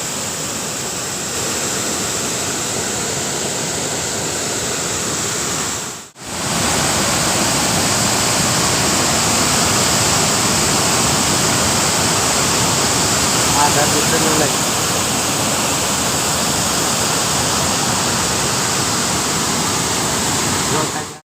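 Water from three opened dam gates rushes in a steady, loud broadband roar that continues throughout, with a brief dip near the six-second mark before the torrent resumes at full strength.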